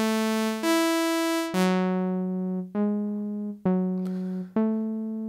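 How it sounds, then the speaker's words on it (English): A short melody on Ableton's Analog software synth: about six bright, buzzy notes in a row, each starting with a sharp attack and fading slowly, played clean and alone. "I have a short melody snippet here that I'm going to use for demonstration purposes"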